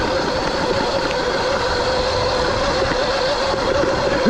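A Surron electric dirt bike runs at full throttle on lakeside single-track trail, giving a steady, loud, continuous drone of motor whine, chain and wind rush with rough ground noise, close and unbroken, with no talk.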